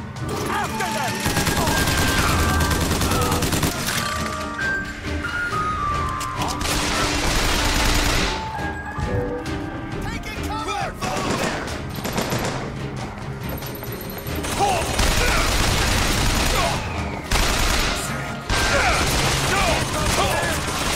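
Turret gunfire in the BioShock Infinite video game: dense, sustained bursts of rapid shots crackle loudly across the whole stretch, with brief lulls and mechanical clatter, and a voice talking at times over the firing.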